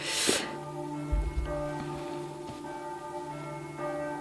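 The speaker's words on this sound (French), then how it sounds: "il y a toujours les cloches quand je filme" Church bells ring out in sustained, overlapping tones at a moderate distance, with a short burst of noise near the start.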